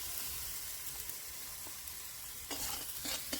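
A spice paste with turmeric fries in a pan with a soft continuous sizzle, and a few scraping stirs come near the end.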